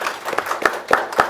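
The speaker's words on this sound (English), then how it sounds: "Please clap for yourselves." Light applause from a modest audience at a young women's leadership gathering in Kenya patters unevenly for about a second and a half, with individual claps standing out rather than a full roar.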